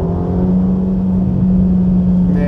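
Steady, loud engine drone from a 2021 Ferrari Roma accelerating hard, a strong low hum building continuously for a couple of seconds with no break.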